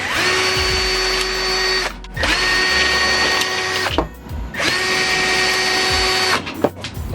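Power drill backing screws out of a lamp post clamp, three long whining runs of the motor, close and loud, each ending in a short pause.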